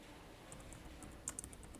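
Computer keyboard typing of a shortcut and command in a code editor, a quick run of faint light key clicks, close and alone.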